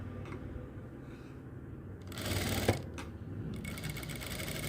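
A sewing machine stitches the neckline of a nightie in short, close whirring bursts, with brief pauses and fabric handling between runs.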